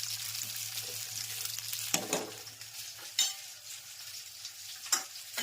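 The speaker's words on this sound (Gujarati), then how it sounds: "મસ્ત મજાનો ભીંડો વઘારાઈ ગયો છે." Okra being tempered in hot oil in a pan, with a continuous soft sizzle and a few louder stirring scrapes at intervals, close and without talk.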